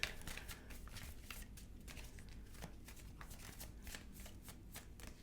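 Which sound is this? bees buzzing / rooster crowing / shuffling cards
shuffling cards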